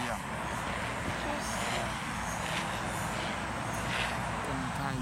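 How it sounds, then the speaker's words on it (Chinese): A small helicopter flies past, making a steady, moderately loud engine and rotor drone that holds throughout, with voices talking over it. "小直升机在这里。"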